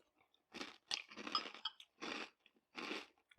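Super Zeros high protein cocoa cereal with semi-skimmed milk crunches close to the mic in four distinct bursts of chewing, separated by short pauses.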